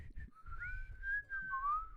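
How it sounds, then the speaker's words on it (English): A whistle sequence from a video game, a clear melodic tone that sweeps and glides between pitches over a soft low rumble, close and fairly quiet. "that whistle sequence is gonna be stuck in my head"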